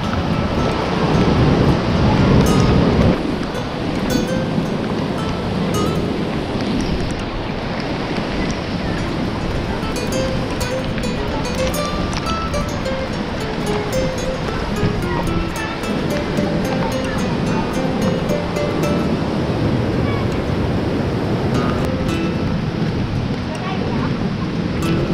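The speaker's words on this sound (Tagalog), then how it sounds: "Ito yung buntot ng bagyong Odette." Storm surf pounds and heavy rain pours from the tail of Typhoon Odette at a mountain resort, a continuous loud wash of waves and rain with wind gusts throughout.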